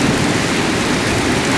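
Torrential rain pours down in a Dallas–Fort Worth thunderstorm, a loud, dense, unbroken roar of water drumming on surfaces close by, with no voices.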